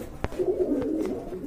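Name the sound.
pigeons cooing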